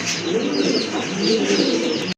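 A group of pigeons coos continuously up close, overlapping throaty calls with no talking.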